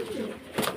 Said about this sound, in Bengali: এই যে এটা হচ্ছে মাদি পায়রা, এটা নর পায়রা